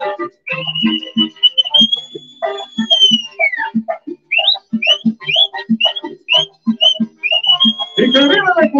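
An audience whistles in short bursts and rising calls, bright and repeated, over lively music and voices, with a dense flurry at the end.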